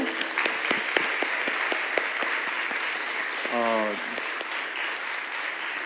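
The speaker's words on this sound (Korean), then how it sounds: "다시 한번 큰 박수로" Congregation at a Sunday church service breaking into applause, a broad wash of clapping with some distinct sharp claps, while a voice speaks and briefly sings over it midway.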